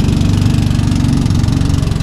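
A steady, close motorboat engine drone with a regular low chugging pulse, running continuously at a constant pitch.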